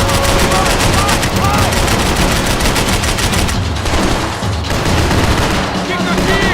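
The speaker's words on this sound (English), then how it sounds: "I can't concentrate with bullets whizzing past my head!" Dense gunfire from the video game Max Payne 3, with a steady barrage of overlapping shots and machine-gun bursts and bullets whizzing past, loud and continuous throughout under faint voices.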